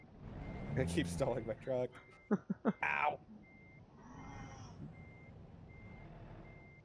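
A truck in American Truck Simulator sounds its reversing alarm, a regular series of evenly spaced short beeps that carries on after someone talks and exclaims over the start.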